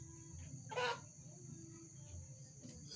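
A chicken gives a single short squawking cluck, with a couple of fainter clucks later, over quiet rural background hum.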